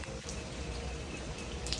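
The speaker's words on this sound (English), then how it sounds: "It's kind of raining outside" Steady rain falling outdoors near a workshop, a soft continuous hiss with faint scattered drops, low and even throughout.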